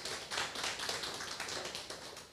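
Audience applause at a Korean YouTube channel launch event as the next participant is called to the stage, a steady patter of many hands clapping at moderate distance, with no talk over it.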